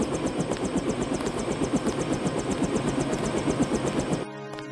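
Steady rhythmic thudding of helicopter rotors with an engine whine in the video game Deus Ex, loud and continuous before cutting off near the end.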